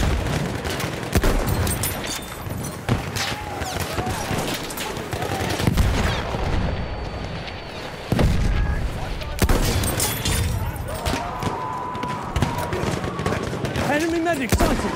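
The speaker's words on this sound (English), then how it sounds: "Machine gun over there!" Machine gun fire in the video game Battlefield 1, dense rattling bursts and distant battlefield gunfire continuing throughout, mixed with in-game voices and explosions.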